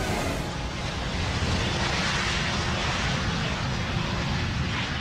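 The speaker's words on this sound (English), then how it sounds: "The DC-10 can fly comfortably on its remaining two wing-mounted engines." A DC-10 airliner flies on its two wing-mounted engines, giving a steady, dense broadband roar that fills the whole clip at an even level with no voices.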